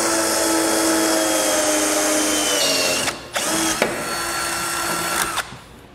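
A power drill whirs loudly and continuously, then stops and restarts in short bursts as it bores mounting holes for a trailer side marker light.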